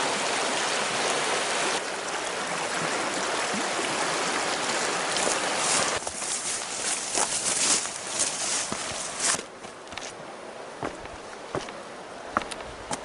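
River water rushes over rocky rapids in a steady, broadband roar, with scattered clicks and light knocks from footsteps on rocks nearby.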